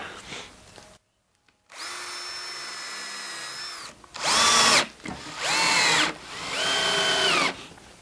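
A power drill bores into a wooden jig held over a hole in a workbench, first one long steady whine, then three shorter, louder bursts with changing pitch as the bit cuts, close and without speech.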